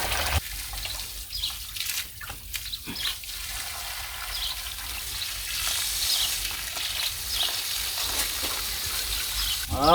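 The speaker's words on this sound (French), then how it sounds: "Le radiateur, il coule bien." Coolant water runs steadily through the cooling circuit of a 2008 Suzuki Bandit 650 S motorcycle under repair, a continuous close trickle and hiss with a few brief knocks, no voices.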